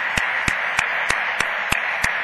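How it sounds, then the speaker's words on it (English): Sparse, evenly spaced claps from an audience at the 2011 National Science Bowl finals awards ceremony, about seven sharp hits over a steady background hum, with no talk. "Let's give them another round of applause."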